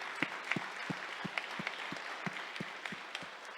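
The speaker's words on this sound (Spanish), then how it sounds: "Denle un aplauso a la palabra de Dios." A church congregation claps in a steady, rhythmic unison beat, about three claps per second, over a softer wash of crowd applause.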